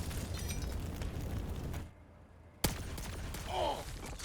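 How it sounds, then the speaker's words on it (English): An explosion in the Xenonauts 2 strategy game: a dense rumbling blast of noise, a brief hush, then a sharp loud boom followed by continuing crackle and debris. "Did they blow up my tank?"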